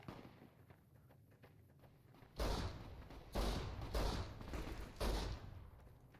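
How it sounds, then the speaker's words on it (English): Gunfire in a Fallout New Vegas battle at Sorrow's Fork Camp comes in several loud, spaced bursts of shots after a quieter opening, sounding fairly distant. "Did you hear all that gunfire?"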